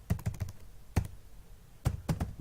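Keys click on a computer keyboard in quick irregular bursts of typing with a short pause between groups, close and fairly faint, with no speech.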